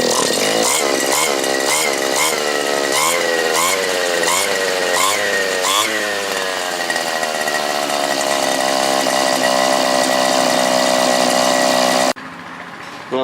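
A small engine runs steadily after its carburetor needle is adjusted, a loud close buzzing drone that pulses at first, then settles into an even hum before cutting off sharply near the end.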